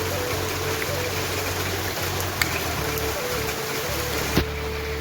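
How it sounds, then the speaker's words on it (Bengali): Heavy rain pours steadily outside a house, a dense close hiss of falling water with a couple of faint knocks, no speech. "দেখেন কিরকম বৃষ্টি হতে হবে।"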